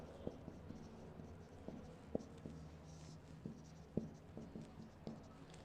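A pen writing out a maths solution on paper, soft close scratching strokes with occasional light taps as marks are made, steady and quiet with no voice over it.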